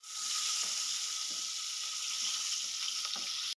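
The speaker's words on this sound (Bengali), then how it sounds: "এবার আমি এর মধ্যে দিয়ে দেবো কেটে রাখা আলু।" Cut potatoes drop into hot oil with bay leaves and five-spice, giving a loud, even frying hiss with faint stirring knocks, cutting off abruptly at the end.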